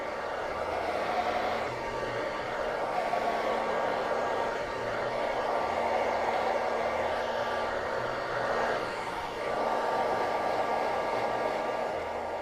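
A hair dryer runs without a break while drying hair during a Brazilian blowout at a salon, a steady, loud, close whooshing drone that swells slightly now and then, with no talking over it.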